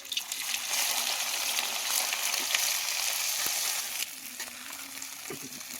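Kachri frying in hot mustard oil in an iron wok over a stove, a loud continuous sizzle up close that drops somewhat quieter in the last couple of seconds, with faint stirring clinks.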